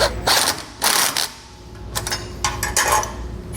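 A wrench works on a bolt on a Dutton-Lainson boat trailer jack bracket, giving loud, close ratcheting metal clicks in short repeated bursts with brief pauses between them.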